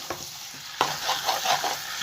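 Chicken frying in a pan for a sauce, with a loud sizzle and brisk stirring scrapes in quick bursts, close up and with no talk.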